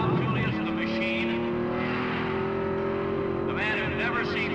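Group 44 Jaguar race cars circle a track, engines droning steadily at high revs with a rising whine as one passes, while a commentator talks over the racing.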